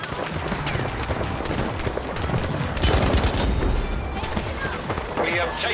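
Battlefield V gunfire: dense automatic weapon shots and booms crackle near and loud throughout, with a burst of heavier explosive thumps midway and a player's voice talking over the game noise.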